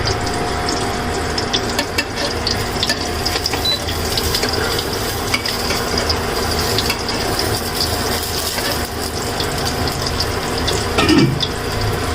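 Egg fry with mustard flowers being stirred in a pan, a steady busy scraping and rattling texture with faint watery sizzle throughout, no voices.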